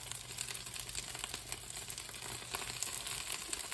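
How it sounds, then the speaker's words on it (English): Grease crackles and pops steadily in a pot of chicken sinigang, a dense faint sizzle with scattered sharper spits running throughout, no talking. "So the grease is popping just a little bit in it."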